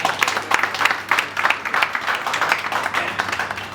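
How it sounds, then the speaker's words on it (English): A crowd at a tech company's grand opening claps for Anil sir, a dense, lively burst of applause with some voices mixed into the clapping. "Everyone, huge round of applause for Anil sir."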